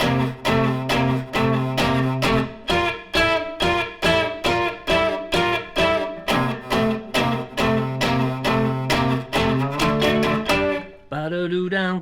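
Guitar slowly plays the third verse of the Beatles' "I'm Down", rocking between root-seventh and root-sixth shapes in a loud, steady rhythmic chug of repeated chord strums, ending on a held, ringing chord.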